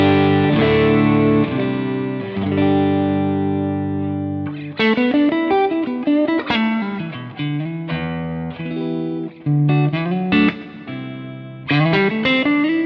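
Electric guitar played through the clean channel of an Amplified Nation Ampliphonix amp, a sustained chord followed by ringing single notes and short phrases, clear and sparkling with a touch of shimmer, with no talking.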